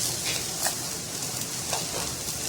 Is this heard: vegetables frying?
yes